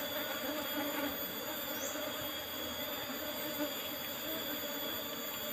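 Apis cerana honey bees swarming around an opened hive during harvest, with smoke kept going, a continuous close high buzzing drone of many insects, no speech.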